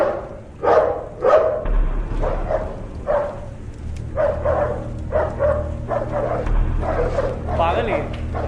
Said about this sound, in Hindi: क्या खेल रहा है कुत्ते से?